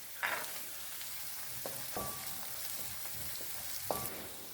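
Green peas, green pepper, carrots and green beans stir-frying in a pan for coconut fried rice give a soft, steady sizzle. A few sharp utensil clinks and taps sound close by, with no talking.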